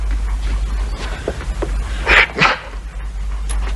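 A distressed dog whimpers and gives short yelps and barks, a couple of brighter bursts near the middle, over a steady low hum.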